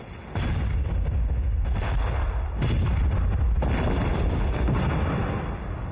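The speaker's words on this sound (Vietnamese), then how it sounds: "Một khi đợt pháo này kết thúc" Artillery barrage in a Chinese civil war action film: four heavy blasts land about a second apart, each a loud broadband boom that fades into a continuous rumbling roar.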